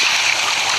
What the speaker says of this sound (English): There's water coming in.